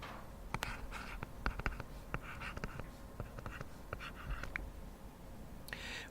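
Chalk writing on a classroom board during a physics lesson, quiet taps and scratchy strokes in an irregular rhythm over a low room background, with no talking.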